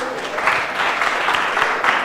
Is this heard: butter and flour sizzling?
no